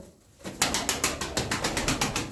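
An Arabian game pigeon, a tumbler kept in a loft of show birds, gives a run of repeated soft coos in a steady rhythm, close and clear after a brief quiet start, with no talking.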